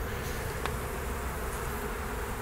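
Honeybees from a colony in a Segeberger hive in July, sieved out the day before, give a steady, dense buzzing hum that stays close and even throughout, with no speech over it.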